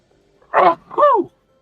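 Two quick, close sneezes in a row, the first a sharp burst and the second a higher, drawn-out one, with near silence around them.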